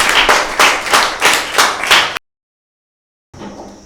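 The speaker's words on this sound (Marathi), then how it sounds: "त्याच्यामुळे सगळेजण आपण टाळ्या वाजवून त्यांचं अभिनंदन करूया" A small group claps in congratulation, a brisk burst of about six or seven sharp, loud hand claps in a steady rhythm, then a second of silence before a faint, thin sound resumes.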